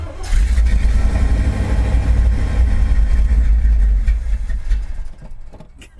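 A riding lawn mower with a manual transmission cranks and its engine catches, settling into a loud, steady rumbling idle that fades slightly at the end.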